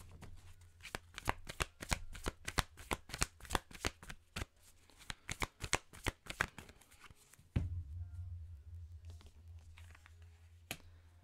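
Tarot cards shuffled by hand for a single advice-card draw, a rapid run of crisp riffling slaps and flutters, close and loud, then a low rumble and a few final taps.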